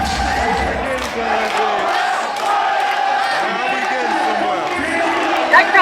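Loud crowd at a vogue femme ball cheers, whoops and yells continuously for several seconds, a dense wall of excited voices with no pauses.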